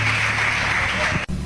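A church congregation claps together during a service, a dense wash of steady applause that holds level before breaking off abruptly near the end.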